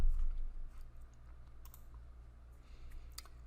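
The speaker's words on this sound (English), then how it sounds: "Clicking in here." Mouse clicks at a computer while browsing a sales dashboard, a few sharp clicks spaced apart over a steady low hum, with no talking.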